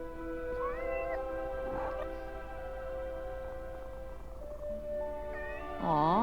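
A cat in the video game Forspoken gives drawn-out meows, one early and a louder wavering one near the end, over a steady background game drone.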